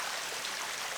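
A small waterfall in an outback gorge at Karijini pours in a steady, soft hiss of falling water, faint and continuous with no voices.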